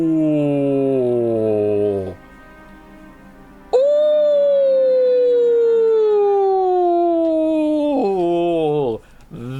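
A husky gives long, drawn-out howls that slide slowly downward in pitch, loud and close, two extended wails with a brief gap between them, answering a man's imitation howls.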